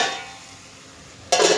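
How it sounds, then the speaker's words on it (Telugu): A lid goes onto a pot of cooking okra and cucumber curry, one short metallic clatter at the very end after a quiet moment. "మూత పెట్టుకుందాం."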